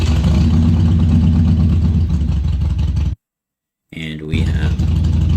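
A car engine starting sample plays in a game audio editor. A loud, rough running engine cuts to brief silence, then a whining starter cranks and the motor catches into a steady, close rumble.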